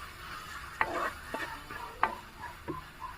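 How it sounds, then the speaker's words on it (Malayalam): Chili powder is sautéed in a pan for a traditional Kerala banana stem (vazhapindi) dish, with a faint low sizzle and about four distinct scraping stirs of a spatula spread over a few seconds, no talking. "നമുക്കിതെല്ലാം കൂടി ഒന്ന് മൂപ്പിച്ചെടുക്കണം"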